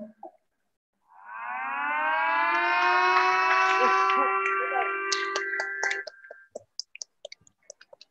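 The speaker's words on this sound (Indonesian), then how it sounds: "Dengan dibunyikan sirene" A school siren wails steadily for about five seconds with rising harmonic tones at a school opening ceremony, then cuts off, followed by scattered clicks and taps.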